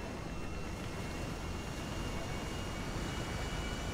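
A jet airplane in GTA 5 roars as it starts its takeoff, a dense, constant, loud engine rumble and hiss that fills the whole moment without any pause or talking.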